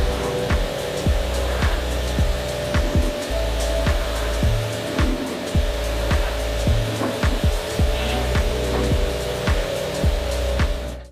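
Steady hiss of water spraying as dirt is rinsed off the hood of a barn-find Corvette with 33 original miles, getting its first wash in 42 years, with a low engine-like drone and scattered knocks and splashes throughout.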